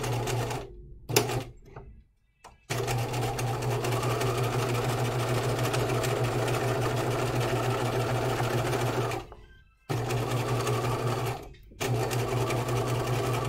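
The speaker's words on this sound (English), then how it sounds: "make sure I plant my needle exactly in the right spot, and then when I'm backstitching that I don't backstitch over my end point" Sewing machine stitching a seam on a hanten mockup, running in a loud, steady hum for several seconds with short pauses and stops for backstitching, no talk.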